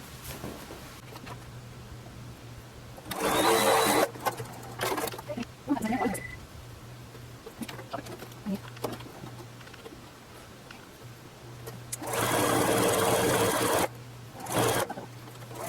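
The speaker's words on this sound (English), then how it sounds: "Then I'm going to do a very long length stitch. Like I think it goes up to 5 on here. And do it all along." A sewing machine running a long-length gathering stitch for ruffles, heard in two loud bursts of rapid stitching separated by quieter gaps with small handling clicks and brief talk.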